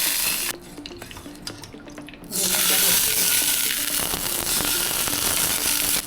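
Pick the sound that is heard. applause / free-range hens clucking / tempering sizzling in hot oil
tempering sizzling in hot oil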